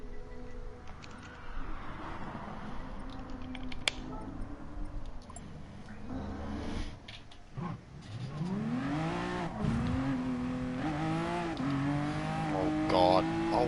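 The hybrid engine of a Honda NSX in a video game revs and climbs through gears, its rising whine getting louder toward the end, while someone talks over it.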